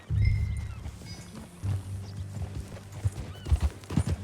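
Horse hooves clop in a steady riding rhythm in the video game Red Dead Redemption 2, fairly quiet and close, with a brief snort or whinny in between.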